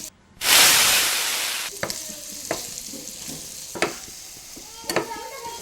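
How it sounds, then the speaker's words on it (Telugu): Paneer hits hot oil in a pan with salt and chili and bursts into a loud sizzle that slowly fades, followed by several sharp scraping stirs at uneven intervals over a softer fry, with no one speaking. "పన్నీర్ ఫ్రై చేసుకోవాలి"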